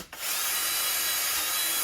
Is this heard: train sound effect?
no